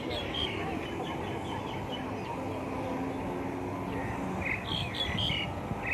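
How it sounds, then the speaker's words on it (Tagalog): Birds squawk and chirp in scattered bursts at Benjakitti Forest Park in Bangkok, a busy city park, rising over a steady crowd murmur and people talking nearby. "Wow, mga ibon."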